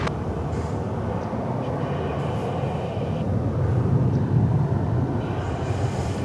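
An American Airlines jet on its takeoff roll at Dallas–Fort Worth Airport, a broad continuous engine roar that swells slightly toward the middle and stays fairly loud and steady, with no talking.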